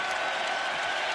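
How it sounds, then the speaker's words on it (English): A basketball crowd in Philadelphia gives Michael Jordan a standing ovation after a free throw at a 76ers versus Washington game, a dense, loud, continuous roar of applause and cheering throughout. "A 3-minute ovation following a free throw."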